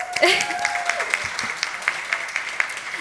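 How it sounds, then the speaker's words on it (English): Audience applause at a medical talk, scattered clapping from a modest crowd, moderately loud and steady for about three seconds with a brief voice at the start. "A big round of applause"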